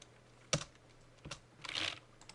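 A few computer keyboard keystrokes typing a command in Rhino modeling software: two separated clicks followed by a short quick burst of typing, close and clear, with no talking.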